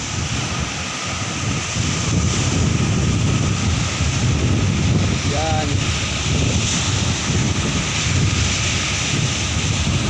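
Strong amihan monsoon wind blows along a seashore, a loud continuous roar buffeting the microphone with surf beneath.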